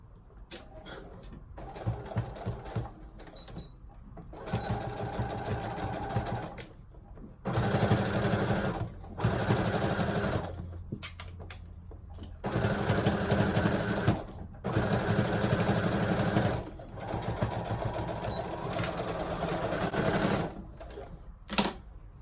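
A sewing machine top-stitches a sweatpants seam in several sustained bursts of steady whirring, with short pauses between runs, close and fairly loud.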